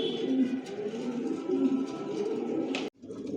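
Adult Johnson line racing pigeons, leg-tagged and vaccinated, coo in a loft with soft, continuous throaty calls layered close together, ending abruptly.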